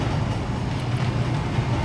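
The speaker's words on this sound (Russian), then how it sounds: "А, поезд едет." Train in Wolfenstein: The New Order rumbling past with a dense, steady low roar and rattling wagon noise, loud and continuous with no voices.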